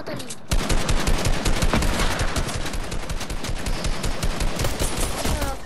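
Gunfire in the Fortnite video game, starting after a brief pause with a long, loud, dense burst of rapid automatic shots and continuing without letup, while a voice talks faintly underneath.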